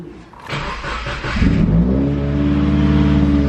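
A 2015+ Subaru WRX engine with a custom oil cooler cranks briefly, catches, and settles into a steady, loud idle with a slight rev, close by.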